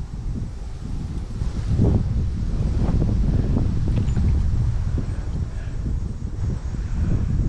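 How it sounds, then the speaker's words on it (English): A strong gust of wind buffets the microphone on a New Jersey fishing trip, loud low roaring that swells and stays steady for several seconds. "that's a gust of wind, isn't it?"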